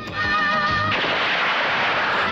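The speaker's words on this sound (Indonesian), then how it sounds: "Karan mendengar suara tembakan dan mencari tahu posisi Arjun." A voice with harmonic tones is cut off by a loud burst of gunfire, followed by sustained rumbling noise and echo.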